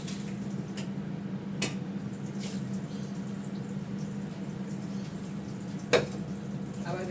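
A kadai is washed by hand under running water, a steady close hiss of flow with soft splashes, a couple of sharp metallic knocks from the pan, and no speech.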